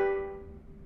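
A ukulele strums one bright major chord that rings out clearly and decays over under a second, close and alone.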